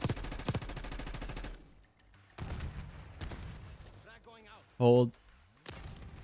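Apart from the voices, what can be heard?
gunfire in Black Ops 6 video game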